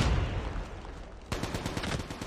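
Rapid automatic fire from an ASM-10 rifle in Call of Duty Mobile, a short sharp burst of loud, closely spaced shots after a stretch of muffled noise.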